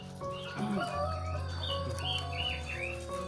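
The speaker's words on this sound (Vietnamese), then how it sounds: "Con này là chim ngũ sắc" A five-colored bird kept in a H'mong home calls repeatedly, with bright chirps and warbling notes over a steady low background hum, close and fairly clear with no speech.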